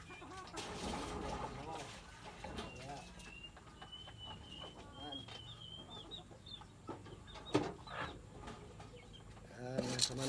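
Chickens and young chicks clucking and peeping in a backyard coop, scattered calls near and far under a person talking steadily.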